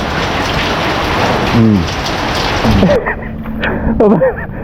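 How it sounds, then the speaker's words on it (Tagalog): Heavy rain pours steadily, loud and close, while voices speak briefly over it; the downpour drops off abruptly near the end. "Ang ulan eh."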